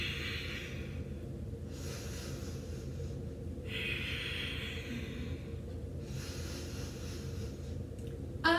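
Slow deep breaths, inhales and exhales alternating in long, even cycles, soft and close with no talking.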